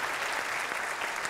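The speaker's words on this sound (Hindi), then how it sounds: "एक बार जोरदार ताली हो जाए।" A studio audience at a kids' singing talent show claps loudly in a steady, dense burst of applause throughout, with no voices over it.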